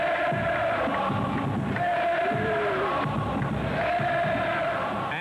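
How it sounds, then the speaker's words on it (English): Basketball crowd at an Indiana–Notre Dame game chanting in unison, a steady roar of many voices rising and falling in rhythmic waves with a few dull thumps underneath. "The crowd appropriately non-supportive with encouraging chants of air"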